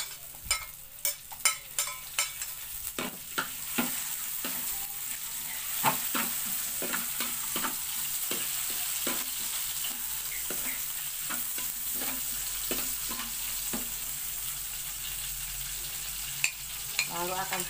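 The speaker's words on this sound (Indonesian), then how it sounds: "Lalu ini akan saya masukkan bawang merahnya." Shallots sizzling and crackling in a hot pan as they are stir-fried, with a steady hiss and sharp spatula scrapes and taps on the pan, close up and without talk.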